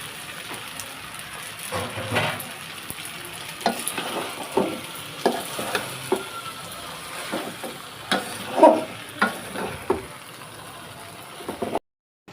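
Chow mein stir-fried in a pan with a soft sizzle and intermittent scraping stirs, a spatula knocking now and then, fairly quiet and close, ending abruptly.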